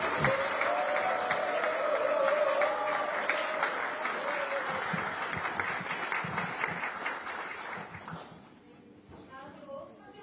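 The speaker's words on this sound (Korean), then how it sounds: "여기 계신 우리 전남 출신 국회의원님들께 박수 한번 보내주시기 바랍니다" Sustained applause from a political meeting audience, honoring South Jeolla lawmakers, with dense clapping and some voices mixed in, loud for about eight seconds before fading and thinning out near the end.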